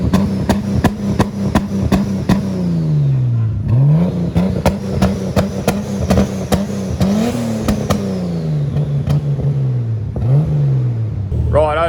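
A Nissan R31 engine with a newly fitted hot side runs during a heat cycle in a garage, holding a steady drone with repeated swells and dips in revs, interrupted by sharp clicks and snaps.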